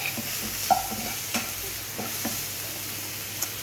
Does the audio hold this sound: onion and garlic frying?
yes